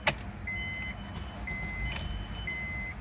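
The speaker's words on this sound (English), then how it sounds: "So we'll go ahead and try to start it here." A 2009 Honda CR-V, prone to hard starting after fueling, is started right after filling up: a short crank catches at once, followed by a steady idle and a chime beeping repeatedly at regular intervals inside the cabin.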